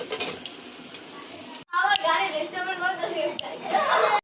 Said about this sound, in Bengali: এই যে লাউ শাক আর আলু এখন তেলে দেব।